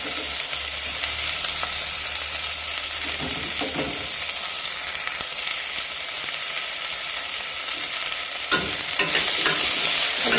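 Potatoes frying in a pan with green chillies and freshly added chopped tomatoes are stirred, steady loud sizzling under occasional scraping strokes of the spoon, close and without speech.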